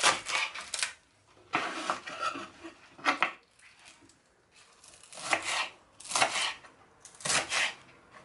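Spring onion is chopped on a board with a knife in irregular bursts of rapid, close cutting strokes separated by short pauses, with no voices.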